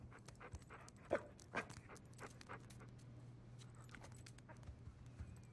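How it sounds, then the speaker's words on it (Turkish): A dog pants quietly in the Uncharted: Legacy of Thieves Collection video game, with a few soft breathy bursts early on over a low steady game hum, faint and close. "Köpeği takip edelim mi? Köpek bizi trollüyor mu ya?"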